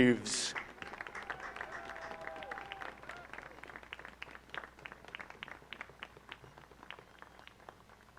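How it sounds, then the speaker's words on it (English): A soccer match crowd at an outdoor field claps in scattered, moderate applause after a loud opening burst, individual claps distinct and thinning gradually toward the end. "A round of applause for Zach Taves."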